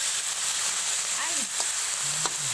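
Garlic sizzles in a hot pan for a Filipino sautéed water spinach dish, a steady close hiss with a few faint clinks and no talk.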